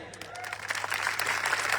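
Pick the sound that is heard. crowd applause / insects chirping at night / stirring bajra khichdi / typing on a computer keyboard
crowd applause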